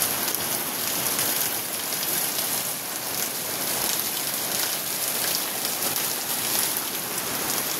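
Heavy rain with large, hail-like drops pours down steadily, a dense, continuous hiss of drops hammering a surface close by, with no voices.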